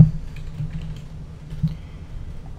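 Rapid, close clicking of keys on a computer keyboard while a command is entered at a prompt, a steady run of light taps heard alone.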